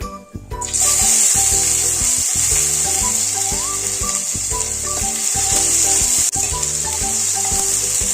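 Tomatoes hit hot oil already tempered with dried red chillies, bay leaves and panch phoron for a Malabar spinach and pumpkin curry, giving a loud, steady sizzle from start to finish over a background music track.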